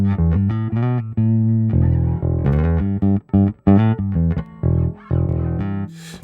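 A Fender Vintera II 60s Precision bass plugged straight into the DI input of an Audient ID44 interface, playing a run of loud, clean plucked notes and short riffs with brief gaps between phrases, no other sounds.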